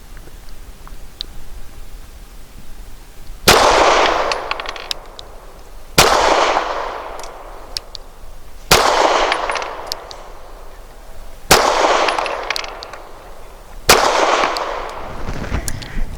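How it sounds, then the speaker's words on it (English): Five loud, sharp pistol shots from an EAA Girsan MC28SA firing Nosler 115-grain match ammunition ring out at a range, spaced a few seconds apart, each with a long echoing decay and low background noise between them. "for our accuracy test, we're going to use Nosler match grade, 115 grain. I'll be shooting at the right circle square. 5 shots for accuracy."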